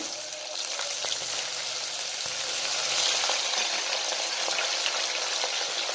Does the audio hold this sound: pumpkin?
yes